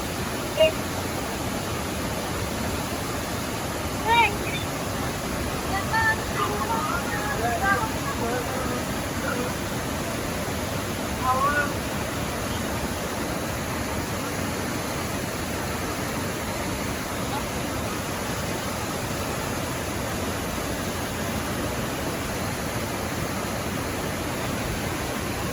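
Maranum Falls, a hidden waterfall in the Caraballo Mountains, pours as a steady, dense broadband roar that runs unbroken throughout, with a few faint scattered knocks and footsteps over it.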